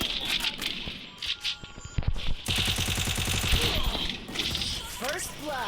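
Rapid automatic gunfire in a Free Fire custom-room match, a dense rattling burst in the middle amid game effects, with someone talking excitedly over the action.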